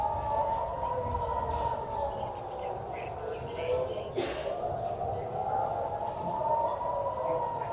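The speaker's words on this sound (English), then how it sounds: "you hear the sirens there telling people to go in shelter, telling people to go to their bunkers" Air raid sirens in Israel warn people to take shelter during an Iranian missile attack, a long, wavering wail that rises and falls continuously under a voice talking over it.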